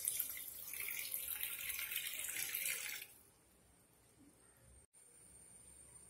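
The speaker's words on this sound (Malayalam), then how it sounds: "ഞാനിനി ഇതിലേക്ക് ഒരു 1/2 കപ്പ് വെള്ളം ഒഴിച്ച് കൊടുക്കുന്നുണ്ട്." Half a cup of water is poured into a pan of chicken chukka, a soft close splashing stream lasting about three seconds before it stops and the kitchen goes quiet.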